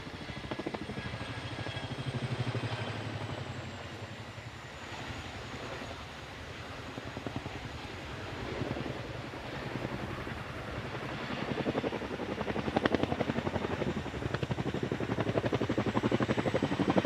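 Helicopter in a flying display at the Farnborough International Airshow, its steady rotor and engine drone carrying at a distance as a continuous, moderately loud rumble throughout.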